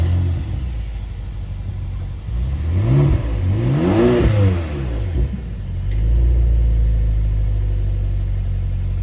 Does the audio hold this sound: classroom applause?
no